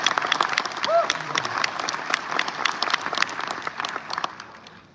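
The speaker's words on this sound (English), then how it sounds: "I would like everyone to give a big round of applause for our volunteers" Festival audience applauds volunteers with dense, steady clapping and a few cheers, loud at first, then thinning and fading out toward the end.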